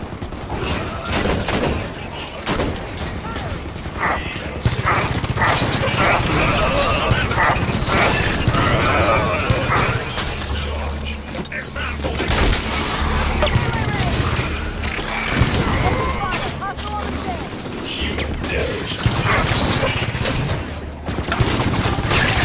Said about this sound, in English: Auto turrets. If we turn these back on, they'll make quick work. Turrets on and firing.